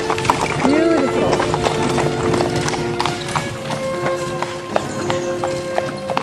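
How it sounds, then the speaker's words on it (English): A horse-drawn carriage passing on a road in Bruges, hooves clip-clopping in a quick steady rhythm close by, with a whinny early on, wheels rolling, and voices talking over it. "Wait for this horse carriage"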